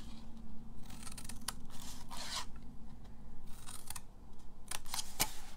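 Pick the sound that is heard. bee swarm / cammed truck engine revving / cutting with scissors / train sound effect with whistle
cutting with scissors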